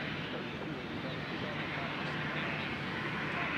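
Airliner departing Nashville International Airport, a broad steady roar of jet engines heard from a distance, continuous and fairly loud, with someone speaking over it.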